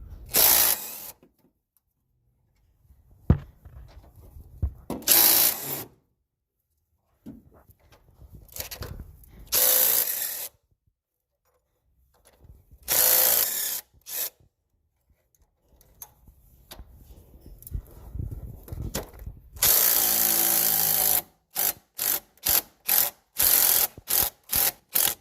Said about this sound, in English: These are 15mm bolts. I'm going to go ahead and take those out of the way